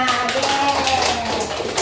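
Guests clap for a newlywed couple at a church wedding ceremony, a brief burst of scattered taps and claps lasting under two seconds, heard alongside a sustained tonal background.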